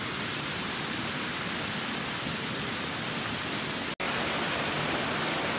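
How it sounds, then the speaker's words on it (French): Water from an English-style cascade running along the side of a château fills the air with a steady, dense rushing hiss. A brief dropout interrupts it near the end. "Cette cascade anglaise court sur le flanc du château."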